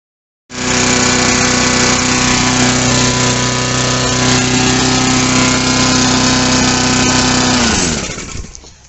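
A Mountfield HP 45 petrol lawnmower catches and runs at a steady loud drone for several seconds, then cuts off and winds down at the end, close by with no talk.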